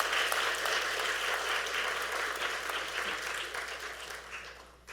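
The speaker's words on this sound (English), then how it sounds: "Let's give Dhanya another huge round of applause." Audience at a Bharatanatyam arangetram applauding the dancer, a thick, even roar of many hands clapping that holds steady for several seconds before thinning out near the end.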